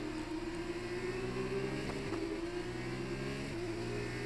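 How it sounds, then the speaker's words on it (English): Steady, continuous F1 2019 video game racing car engine drone with a sustained mid-pitched whine, no talking over it. "so you can hear the sounds of the other cars on the track"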